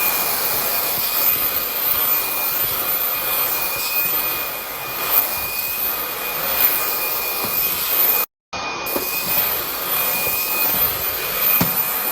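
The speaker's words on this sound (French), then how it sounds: "Là, je vais passer un petit coup d'aspi." A cordless vacuum cleaner runs steadily at full power with a loud, even whirring hiss, interrupted by one brief dropout before the motor noise resumes.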